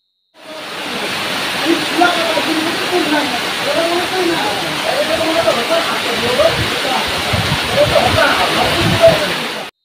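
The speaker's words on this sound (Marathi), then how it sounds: "गणपती बसल्यापासून जेवढा पाऊस पडला नाही आहे तेवढा पाऊस आत्ता पडतोय" Heavy monsoon rain pours down outside a house in Konkan, a dense, loud, continuous rushing wash with water splashing and running throughout.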